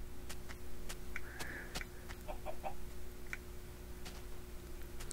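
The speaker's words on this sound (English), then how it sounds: "A lot of chickens around here." Minecraft chickens on the Xbox 360 cluck in short, soft bursts near a house, with scattered ticking clicks throughout and a steady low hum beneath, no voices.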